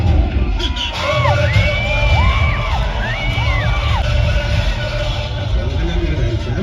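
A cinema crowd at a re-release of Gabbar Singh starring Pawan Kalyan roars with dense, continuous cheering, whistles and shouts, loud and close throughout.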